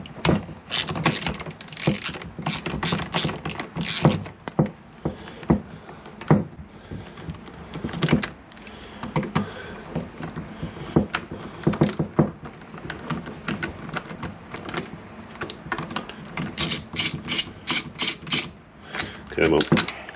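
Small 8mm screws are worked loose from the airbox plate on a 1998 Kawasaki ZX9R carburettor, giving close, irregular clicks, ratcheting and metallic taps throughout, with someone talking intermittently.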